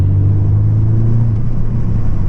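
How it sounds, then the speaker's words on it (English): A Ford Mustang engine rumbles steadily at low pitch, a deep continuous exhaust drone close by with no other sounds. "Listen to that Mustang."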